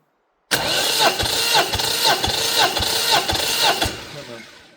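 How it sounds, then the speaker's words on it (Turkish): A patpat farm vehicle's engine cranks on the starter, with a steady run of evenly spaced low thumps and a loud, close mechanical whirr for about three seconds before it stops and fades. "Bir marş deneyelim böyle."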